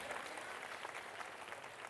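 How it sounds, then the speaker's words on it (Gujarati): An audience at a devotional village drama claps steadily through a cast introduction, a dense, even burst of applause from a crowd filling the whole moment. "જોરદાર તાળીઓ થઈ જાય."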